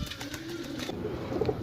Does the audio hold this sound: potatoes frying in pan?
no